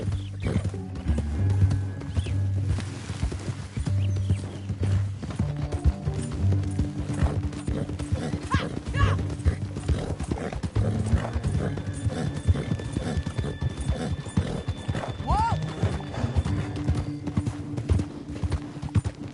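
Hooves clip-clop steadily as a horse gallops along a trail in a PS4 open-world western game, with a brief whinny and game ambience and music underneath throughout.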